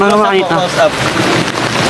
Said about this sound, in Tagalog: Ngayon lang ako nakapag-testing ng umuulan talaga.